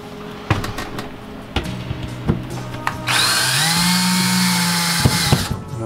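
A power drill drives a small 6 by 1/2 inch pan head screw while installing a side window, first with a few sharp taps and clicks, then a loud steady whine of the motor running for about two seconds before it stops.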